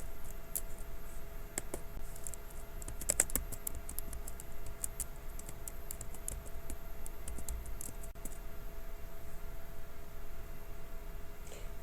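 Quiet, rapid clicking of a computer keyboard and mouse while logging in as a student on a school computer, light scattered keystrokes with no voices.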